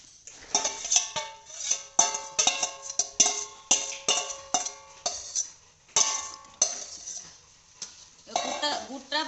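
A metal spoon clanks and scrapes against a pot in a steady rhythm, about two knocks a second, as plums are stirred into boiling jaggery to make a sweet-sour plum pickle.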